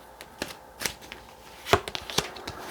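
Tarot cards are shuffled by hand in a quiet room before more are drawn. A few soft, uneven riffling snaps and taps come close by with pauses between them.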